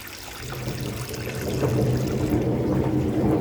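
Water steadily pumped out of a fish pond, a continuous gushing, trickling flow that grows slightly louder, heard alone without talk.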